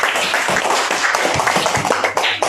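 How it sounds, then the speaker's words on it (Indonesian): A classroom group claps steadily for a couple of seconds, a dense, even patter of applause with no voices over it. "Tepuk tangan untuk kelompok Raja Putra Dewa."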